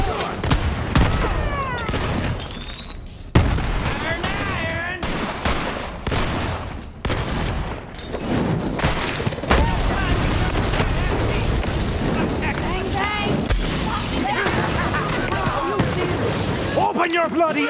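Rapid gunfire and explosions from the shooter Borderlands 3, dense bursts and booms going on almost without pause, loud and close, with character voices calling out over the fighting.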